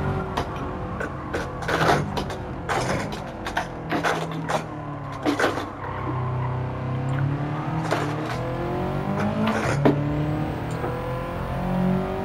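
A modified or stock Toyota or Subaru racing car in Gran Turismo 7 drives flat out, its engine climbing and dropping through repeated gear shifts, with rapid bursts of tire and engine noise over a steady loud drone.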